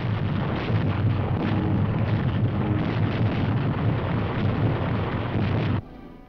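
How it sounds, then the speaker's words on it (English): Bombs dropped by bombers strike an enemy-held junction of the Rangoon-Mandalay Railroad in Burma, heard as a continuous heavy low rumble of blasts that cuts off abruptly near the end. "bombers saturate an enemy-held junction of the Rangoon-Mandalay Railroad in Burma"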